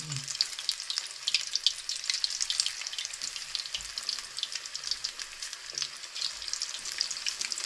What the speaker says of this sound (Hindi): अब हम फ्राई करने लगे हैं चिकन पकौड़ा